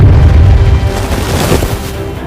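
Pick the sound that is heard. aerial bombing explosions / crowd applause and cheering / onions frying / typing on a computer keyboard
aerial bombing explosions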